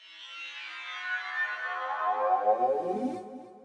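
Designed intro effect for a forest-themed electronic track, a swirling, heavily processed tone that sweeps slowly downward with chorus and distortion textures and cuts off abruptly, heard alone at moderate volume.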